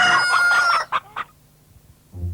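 A rooster crows loudly and close, a long harmonic cock-a-doodle-doo followed by a couple of short clipped notes, then a brief low rumble after a pause.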